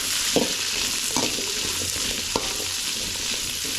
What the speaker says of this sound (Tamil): வெங்காயம் வந்து நல்லா வதங்கணும் அது வரைக்கும் வதக்கி விட்டுடலாம்